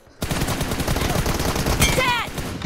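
Rapid bursts of gunfire from a shooter video game, a dense, loud crackle of repeated shots running continuously with a sharp whizzing effect near the end.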